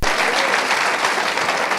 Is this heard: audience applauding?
yes